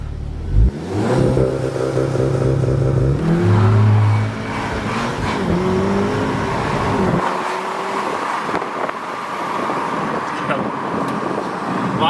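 A car with an aftermarket intake launches hard, its engine rising through loud revving gear pulls before settling into a steady drone with road noise, and people talk briefly over it.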